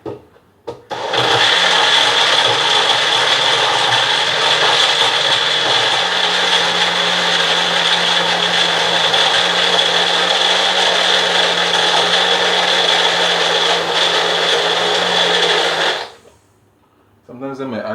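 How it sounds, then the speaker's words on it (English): A kitchen blender crushing ice at night runs loud and steady for about fifteen seconds, a harsh grinding roar that drops in pitch partway through, then cuts off abruptly. "I'm gonna blend again this time with the ice."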